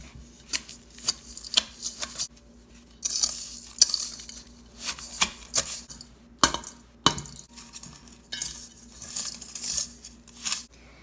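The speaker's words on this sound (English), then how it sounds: "Now we're just gonna cream those together." Butter and brown sugar are creamed together for banana bread: repeated scraping, stirring strokes against a bowl in an uneven rhythm, close and moderately loud.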